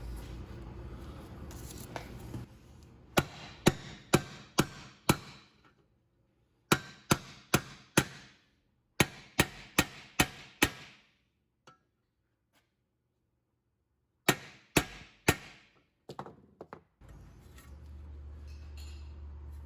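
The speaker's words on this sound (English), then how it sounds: "I have a seal driver" A seal driver taps a new engine seal into its bore in bursts of sharp, close metallic knocks, several quick strikes in a row, then pauses and more taps, with quiet gaps between.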